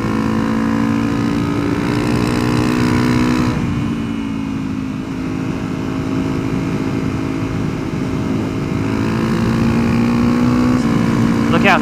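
A Honda CRF250L dual-sport motorcycle riding on a road, with a loud, steady engine drone and wind roar throughout, rising slightly in pitch near the end.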